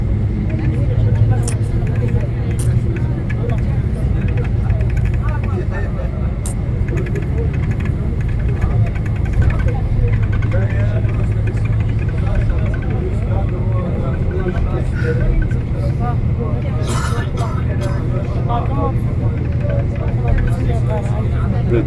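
Interior of a bus driving through a tunnel on a Turkish road, with a loud, steady low engine and road rumble filling the cabin while people talk throughout.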